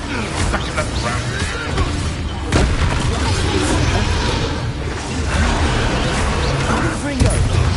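Rapid spell blasts and explosions in a Harry Potter video game, loud booms and whooshes overlapping in a dense, chaotic stream with a voice shouting throughout.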